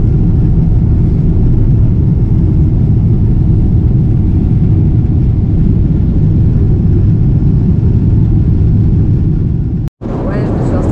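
A steady, loud, low engine rumble fills an airplane cabin on a flight home from Walt Disney World, continuous and unchanging, with a brief dropout near the end.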